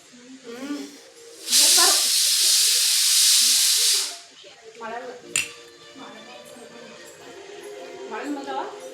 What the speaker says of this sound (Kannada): ನಮ್ಮ ಅಮ್ಮನಿಗೆ ಕುಕ್ಕರ್ ಕೂಗ್ತೈತಂದು